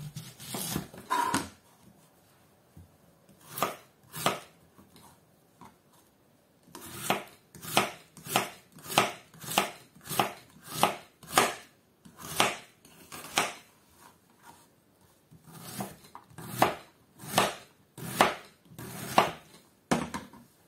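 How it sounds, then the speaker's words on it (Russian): A knife chops an onion into small cubes on a board, with crisp, evenly spaced strikes in bursts and short pauses between runs, close and clear with no talking. "Сейчас буду нарезать лук. Лук надо будет нарезать мелким кубиком."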